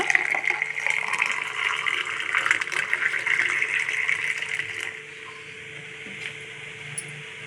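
Juice pours into a glass in a steady, bright, splashy stream that lasts about five seconds, then stops, leaving faint room noise and a small clink.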